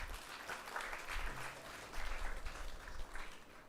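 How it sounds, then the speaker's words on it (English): An audience in a school auditorium at Delhi Public School Faridabad claps together for about four seconds, a fairly soft, uneven applause with a few louder surges. "I think we can clap at that."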